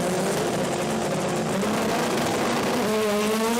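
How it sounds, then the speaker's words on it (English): Sports compact drag racing cars launch hard off the line on old tyres with wheel spin, a loud continuous engine roar with rising harmonic tones climbing as they accelerate down the strip. "you will notice the wheel spin off the line with TJ"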